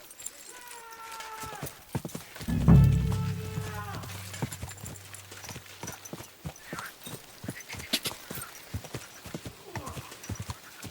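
In a video game, a horse's hooves clop close and steady, a loud neigh rising early on, while someone speaks intermittently over the rhythmic hoofbeats.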